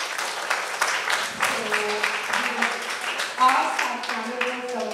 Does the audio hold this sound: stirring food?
no